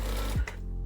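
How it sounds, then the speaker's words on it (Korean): An industrial sewing machine stitching, heard as a steady low mechanical hum with a brief surge and thump partway through, close and continuous with no voices. "한번 박음질을 해보도록 하겠습니다."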